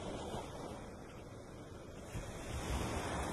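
Ocean waves breaking on a shore, a steady broadband wash mixed with wind buffeting the microphone that swells louder toward the end, with no voices.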